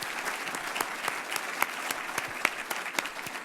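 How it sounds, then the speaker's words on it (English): Applause fills a university address hall during a state-of-the-university speech, a dense, even wash of many hands clapping with sharper individual claps popping out, sustained throughout. "With applause and all those things."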